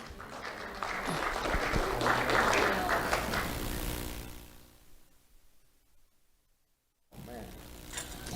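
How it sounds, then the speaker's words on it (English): Audience applause for a young award recipient at a sheriff's office awards event, swelling and then fading to near silence before voices resume. "Let's have a round of applause for Matthew Maxim"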